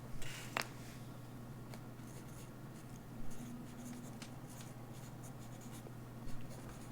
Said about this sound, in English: Writing in the model's name and the back sloper just to identify what these pieces are for future reference.